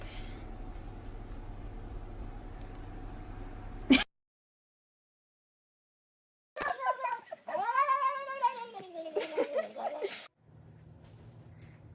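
A cat caterwauls in a loud, wavering, drawn-out yowl that rises and bends in pitch, following a sudden sharp noise and a stretch of silence, with a low hum underneath.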